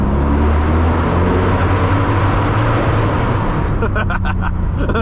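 A 2007 Mercedes-Benz CLK63 AMG Cabriolet engine roars loudly and steadily from inside the car under hard acceleration, with a brief burst of talk near the end.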